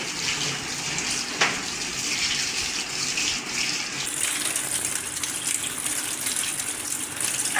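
Vegetables are washed in a basket under running water, a continuous close splashing gush that shifts in tone partway through; no speech.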